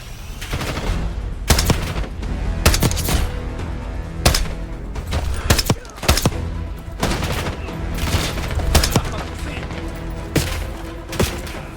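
Rapid bursts of automatic gunfire and sharp single shots ring out in a Call of Duty: Black Ops 6 campaign battle, loud and close, punctuated by heavier booms over a rumbling background.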